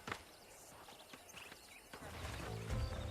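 Horse hooves clip-clopping in Red Dead Redemption while a horse is broken in, with a steady beat that grows heavier and closer toward the end and a brief whinny among the hoofbeats.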